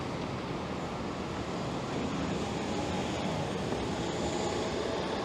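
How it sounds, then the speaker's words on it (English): A steady low rumble and rolling hum of a Toronto streetcar moving along its tracks on King Street, constant and fairly close, with no voices. "This streetcar is only going as far as Bathurst."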